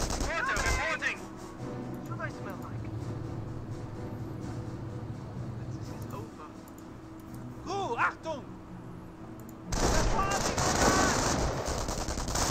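Company of Heroes battle gunfire rattles in bursts through most of the stretch, with rifle and machine-gun fire building to a dense, loud volley near the end while someone talks over the action.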